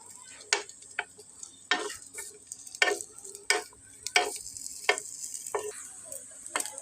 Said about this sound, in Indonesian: Kita tumis, kita masak sosisnya ini sampai matang.